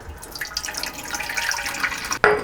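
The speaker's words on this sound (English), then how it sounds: "I'm gonna put 360 grams of water in here." Water runs from a tap into a mixing bowl set on a kitchen scale, a steady close splashing stream that stops near the end with a brief sharp clink.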